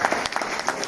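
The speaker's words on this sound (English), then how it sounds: "Please give a round of applause for that." A brief patter of audience applause at a Salesian basketball hall of fame induction ceremony, light and fairly close, lasting only about a second.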